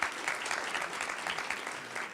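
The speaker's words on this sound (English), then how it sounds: "Give her a round of applause, please." Audience applause at a poetry recitation event, a steady wash of clapping hands held evenly from start to finish, moderately loud with no voices on top.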